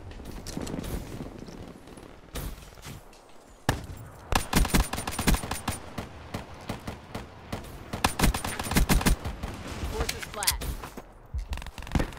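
Pistol gunfire in a first-person shooter video game, sharp shots coming in rapid irregular bursts with quieter gaps between, loud and close, over game ambience.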